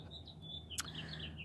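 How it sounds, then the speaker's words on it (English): Birds calling outdoors, a thin string of high chirps and whistles that keeps going throughout, with a brief sharper note partway through, all over a steady low background hum. "I don't know what kind of sounds these birds be making, but that better be a bird."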